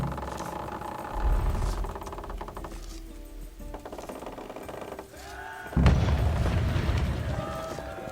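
A trebuchet fires in the medieval battle game Kingdom Come Deliverance, with creaking wooden mechanisms and a heavy booming thud, followed by a second deep impact rumbling over the battlefield ambience.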